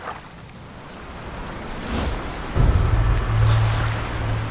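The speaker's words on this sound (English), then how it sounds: "Guess there's a little rain coming down." Steady rain falling around a boat heading into bad weather, a continuous patter that swells louder partway through with a low rumble underneath, no voices.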